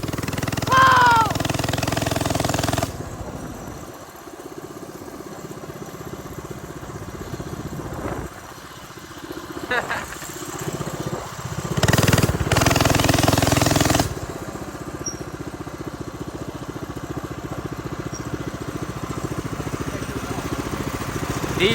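Mini bike engines buzz and rattle close by, idling and revving in uneven bursts with a louder surge partway through, while people talk and shout nearby.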